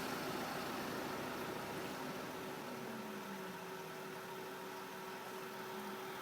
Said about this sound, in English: all I need to do now is switch off the engine